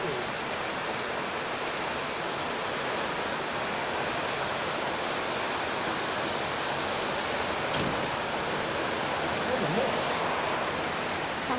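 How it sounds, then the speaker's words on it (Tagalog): Heavy rain pours down steadily with strong wind gusting through it, a dense, constant roar from start to finish at close range. "Lakas ng ulan!"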